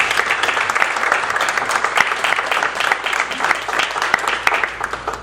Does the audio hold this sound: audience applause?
yes